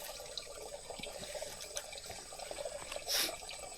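Water runs from a tap in a rural province setting, a steady hiss with scattered splashes and drips, and a brief louder gush near the end.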